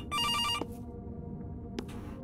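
A telephone rings in the horror video game September 7th, a single electronic trilling burst at the start, followed by quiet room tone and a faint click.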